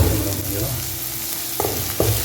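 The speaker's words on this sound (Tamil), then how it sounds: "எண்ணெயில் நல்லா வறுத்துக்கலாம்" Kadai chicken ingredients fry in hot oil with a continuous close sizzle, broken by two sharp stirring strikes of a spoon against the pan near the end.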